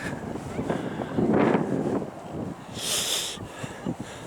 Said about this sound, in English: It's quite breezy out today.